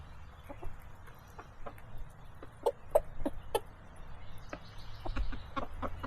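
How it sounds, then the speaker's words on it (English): Silkie roosters excited over scattered cracked corn give a run of short, quick clucks and calls, some sharp and close, over a steady farmyard background with no talking. "Listen to that sound that the silky roosters make when they get excited with the cracked corn."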